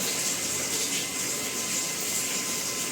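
Rainwater leaks through a house during heavy flooding in Rajkot, pouring and splashing down from a wall shelf in a continuous close, dense gush of running water.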